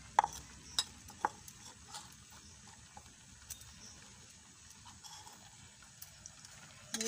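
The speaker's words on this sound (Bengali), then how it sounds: "এটাকে আমি নাড়তে থাকবো" Papaya pieces stirred in sugar syrup in a pot, giving faint, soft scraping and bubbling with a few sharp utensil clicks, quiet and close with no talking.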